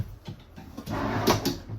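Kitchen drawers in a 2025 Venture Sonic 190VRB RV are pulled out, giving a few short sliding rattles and soft knocks close by with no talking.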